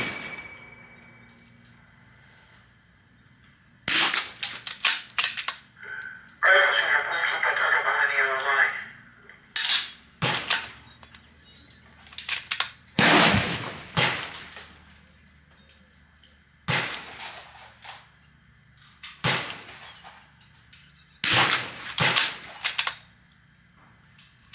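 Rifle shots from a Vudoo rifle firing Eley ammunition, several sharp cracks spaced seconds apart, loud and close, with people talking between shots.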